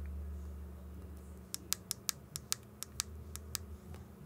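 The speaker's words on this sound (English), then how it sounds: "what happens is after a while when you use this, the buttons stop clicking" Sharp plastic clicks from the buttons of an HME COM6000 wireless drive-thru intercom belt pack, about a dozen quick irregular presses over a low steady hum, close and fairly quiet.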